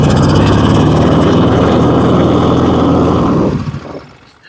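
A Kohler twin engine with a thrown rod and a holed block, limping along on one cylinder, chugs loud and close in a rough, uneven idle before cutting out and fading away near the end.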